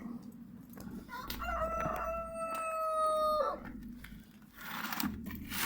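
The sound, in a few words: chickens and rooster crowing in a coop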